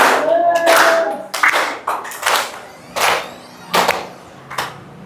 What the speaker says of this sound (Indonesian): Clap, tepuk tangan.